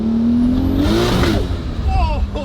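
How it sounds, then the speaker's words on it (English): A 2JZ-swapped BMW E30 sleeper making around 800 wheel horsepower accelerates hard with its tires spinning, the engine note climbing loud and close over a steady roar, with voices reacting alongside. "Just completely blew the tires off."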